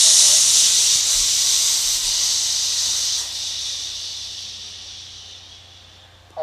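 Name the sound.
exhaling with a shh sound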